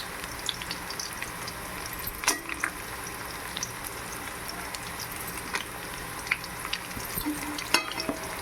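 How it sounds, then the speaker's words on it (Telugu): Whole spices, cinnamon, cloves, bay leaf and cashews sizzle steadily in hot oil for mutton biryani, a continuous crackling fry with occasional sharper pops and stirring clinks, fairly close and with no voices. "కాసేపు వేగనిద్దాం."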